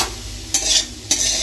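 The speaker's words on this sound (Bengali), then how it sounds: "ওই জন্য একটু আলু ভাজছি, আলু ভাজা দিয়ে রুটি খাবো।" Potatoes frying in a pan give a steady sizzle, broken by two sharp bursts of stirring or scraping at even intervals, close and fairly loud with no voices.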